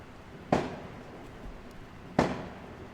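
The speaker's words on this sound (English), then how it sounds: "there goes the usual fireworks" Two sharp fireworks bangs go off outside, a couple of seconds apart, moderately distant, against quiet indoor room tone.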